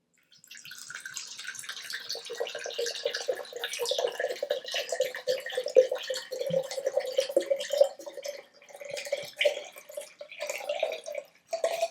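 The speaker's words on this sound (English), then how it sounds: "Next I'm going to add some water." Water trickles and splashes steadily into a jar as it is poured for a preschool salt-water lesson, a close, fairly quiet burbling stream that wavers and breaks off briefly near the end.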